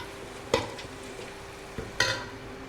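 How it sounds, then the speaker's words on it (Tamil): Onions sauté in a pan while a spoon stirs them, giving a low steady sizzle broken by two sharp scraping clatters against the metal. "இந்த மாதிரி வெங்காயம் வதங்கிறதுக்கே ரொம்ப நேரம் ஆயிட்டுங்க."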